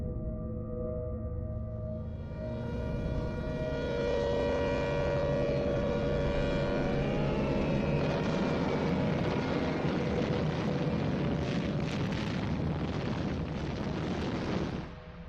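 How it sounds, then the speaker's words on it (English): Bomber aircraft over Chongqing: a deep, roaring engine drone swells from faint to loud within two seconds and holds heavy and continuous, with rumbling bursts suggesting explosions mixed in later, no voices. "But there was no escaping the bombers."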